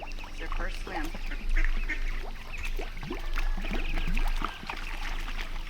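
Young ducks quack and honk in a busy, overlapping chatter as they take their first swim, the calls close and steady throughout with some faint splashing and a voice talking quietly in the background.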